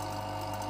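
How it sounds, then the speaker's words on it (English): A vacuum pump for stabilising wooden knife scales with Cactus Juice resin runs as a steady, even mechanical hum with a strong low drone and no change in level. "pump to pull a full vacuum"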